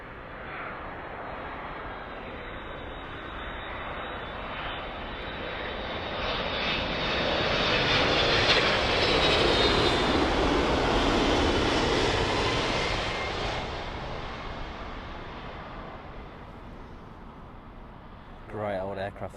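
An aircraft arriving on runway 27L at London Heathrow, a jet roar that swells to a loud, broad peak as it passes close and then slowly fades, with a voice breaking in at the end.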